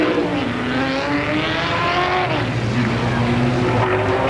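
A Port City chassis race car with a Drame racing engine, number 75 out of Jenners, Pennsylvania, runs laps at Motordrome Speedway, its steady loud engine drone shifting pitch as it moves around the oval, with no voices over it.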